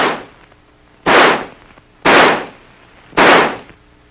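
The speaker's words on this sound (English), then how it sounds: "By closing the bolt and turning the selector lever to semi, the rifle will fire semi-automatically." An XM16E1 rifle fires semi-automatically, with three loud, evenly spaced single shots about a second apart, each a sharp blast with a short decaying tail, and quiet between them.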